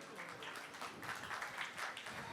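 An audience at a Bollywood golden-era music show applauds two singers, a soft, distant patter of clapping that is brief and faint.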